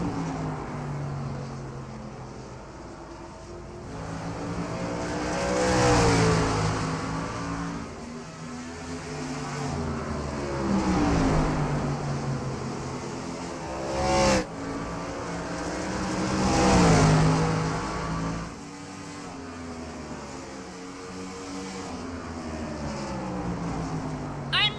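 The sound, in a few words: stock race cars racing at Richmond Raceway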